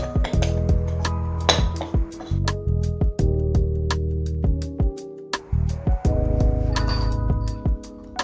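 Ingredients for crispy fried chicken are mixed quickly in a bowl: bright, irregular clinks and taps of a utensil against the bowl, close and crisp, with brief pauses between strokes.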